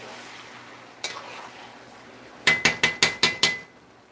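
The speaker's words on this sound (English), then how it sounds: "We have to stir it like this." Meat being stirred in a cooking pot: one sharp metallic clank, then a quick run of six crisp, evenly spaced utensil knocks against the pot rim, close and fairly loud over faint background hiss.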